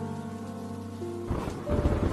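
Thunder rolls in over a village storm at night, a low heavy rumble joining steady rain after a sustained tonal drone fades, growing louder toward the end with no speech.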